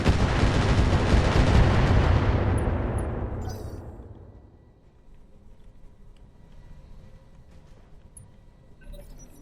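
Heavy artillery barrage in a video game fired at an enemy archer: a loud, dense blast with a long rumbling tail that fades over several seconds, and faint scattered game sounds afterward.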